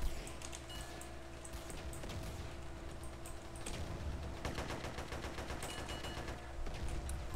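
Gunfire in the multiplayer game SA-MP crackles in rapid, distant bursts and single shots over a steady background hiss, with no talking.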